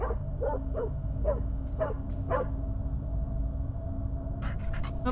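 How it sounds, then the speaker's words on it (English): A dog in the horror video game Fears To Fathom barks in a quick series of about six sharp, moderately close barks over a low steady hum, followed by a short pause and a few faint yips. "Who are you barking at, sweetie?"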